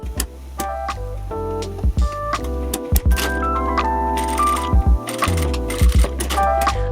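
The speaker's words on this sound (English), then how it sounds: "I'm sewing a straight stitch along the marked line so that the seam lines up perfectly" A sewing machine stitches a straight seam on a vest in short, rapid mechanical bursts separated by brief pauses, over background music.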